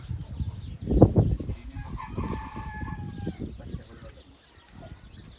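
A rooster crows at moderate distance on a farm garden in Saudi Arabia, its stretched call rising over a busy, murmuring background.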